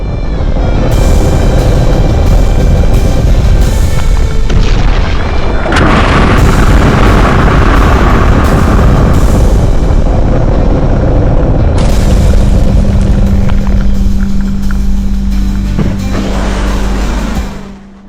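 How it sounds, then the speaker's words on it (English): Heavy, continuous booming and rumbling roars for a long stretch as Dongfeng medium-range missiles strike Taiwanese cities such as Taipei, very loud and close with layered blasts and a low droning undertone, no voices. "The Chinese rocket force began to launch a large number of Dongfeng medium-range missiles to attack cities in Taiwan Taipei."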